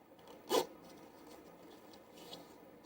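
One quick zip of the zipper on a medium-support Decathlon sports bra, a short close rasping pull followed by faint handling rustle.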